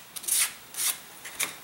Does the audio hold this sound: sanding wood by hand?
yes